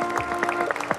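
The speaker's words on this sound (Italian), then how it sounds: "Un applauso." An Italian theatre audience gives brief applause as a mayor is called onto the stage, a short burst of moderate clapping.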